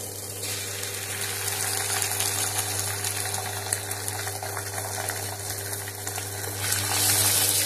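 Beaten egg frying in a pan for egg bhujia, a steady broadband sizzle with a low hum underneath, continuous and fairly close, swelling slightly louder toward the end; no talking.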